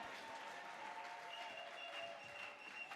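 A congregation at a church revival service applauds and cheers, a continuous wash of clapping heard faint and distant, steady from start to finish.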